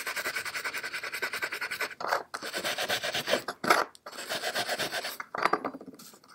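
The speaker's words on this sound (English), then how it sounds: "as what's left of the lacquer starts rubbing off there" Old lacquer and tarnish being rubbed off brass, a loud, close rasping scrub in steady back-and-forth strokes with a few brief breaks, no voices.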